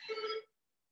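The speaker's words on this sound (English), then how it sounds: "that's the phone, I'm not getting that." A telephone rings once indoors, a short bright electronic chirp that cuts off abruptly into silence, with no talking over it.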